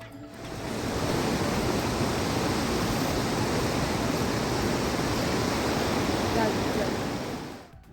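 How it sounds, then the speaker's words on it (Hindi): The Ganges river at Haridwar rushes in a broad, steady roar of flowing water, loud and continuous, swelling in at the start and fading at the end. "अब ज़रा नदी के पानी की आवाज़ सुनिए।"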